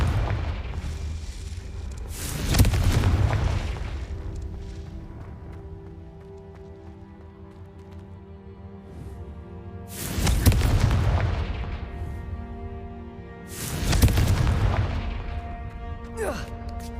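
Confringo fire spells blast in Hogwarts Legacy during a spider mini-boss fight: three heavy booming explosions, each with a long rumbling tail, over a steady game soundscape.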